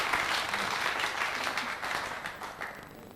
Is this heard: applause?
yes